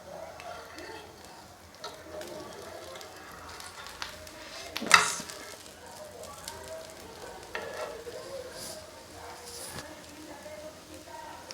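A rice flour roti cooks on a griddle with ghee dabbed around its edges, giving a faint, steady low sizzle with a brief louder tap midway.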